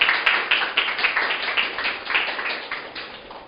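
A church congregation claps in unison during a sermon, a steady run of rhythmic, fairly close applause with no speech over it.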